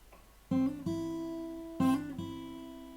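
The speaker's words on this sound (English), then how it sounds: "but if you can, please do a hammer-on" Fingerstyle acoustic guitar playing a song from Final Fantasy X, with two bright plucked notes each followed quickly by a hammer-on on the second string, clear and close with ringing sustain between them.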